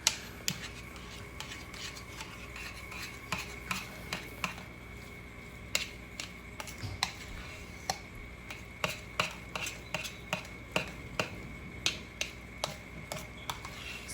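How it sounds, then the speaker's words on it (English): A spoon stirring milk into mashed potatoes, giving soft repeated clicks and taps against the bowl in a steady rhythm over a quiet kitchen hum, with no one talking. "I'm just going to stir that in. Try to get those flavors in, get that milk in."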